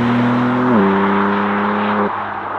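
A BMW M4 Convertible Competition xDrive accelerating hard, its loud close engine note climbing in strong steady tones with two quick gear changes dropping the pitch in steps.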